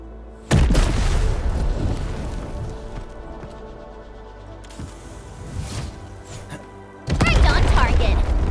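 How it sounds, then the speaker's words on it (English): Explosions in the video game Arknights: Endfield: a sudden heavy boom, then a rumbling, crackling tail that fades, and a second loud blast near the end. "I give that explosion a 10 out of 10."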